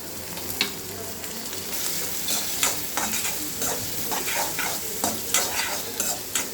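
Chopped onion and tomato frying in oil, a bright continuous sizzle broken by repeated scraping and stirring bursts from a spatula, close and fairly loud with no talking.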